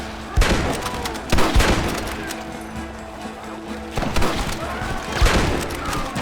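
Gunfire from a Red Dead Redemption shootout: repeated loud, sharp shots arrive in clustered bursts over a steady battle din, with booming impacts and no clear talk.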